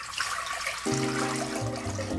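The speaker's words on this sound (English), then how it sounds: "I'm going to add 6 cups of water." Tap water is poured into a cooking pot to start dashi stock for miso soup. After a brief pause, a steady, close pour begins, with a hollow resonance that shifts as the pot fills.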